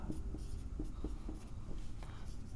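Pen scratching on paper while a maths exercise from a class 10 textbook is solved, short strokes repeating in a steady writing rhythm, close and fairly quiet.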